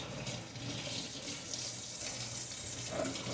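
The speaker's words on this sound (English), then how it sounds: "Wash this. Wash that. All the oil off the sponge." Makeup sponge being washed under a running tap to rinse oil out, a steady close stream of water splashing continuously with slight shifts as the sponge is squeezed.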